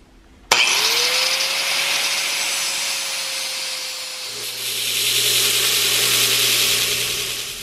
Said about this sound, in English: I'm just going to chop it off about right there